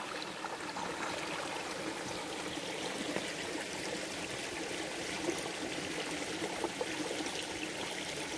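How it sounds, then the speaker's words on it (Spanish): A small countryside brook flows steadily through a spring meadow near Granada, a close, continuous bubbling trickle at even volume, with no voices. "Riachuelo, sonido de agua"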